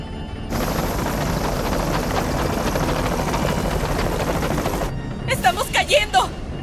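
A helicopter in a film scene suffering main rotor engine failure, probably from volcanic ash: a loud, steady roar of engine and rotor with dense rattling and gunfire-like bursts, cutting out abruptly, followed by a few short clattering effects.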